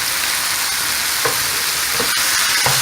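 Garlic sizzles loudly in a pan with peppers and onions, a close, steady hiss of hot oil with a few faint scraping knocks from stirring.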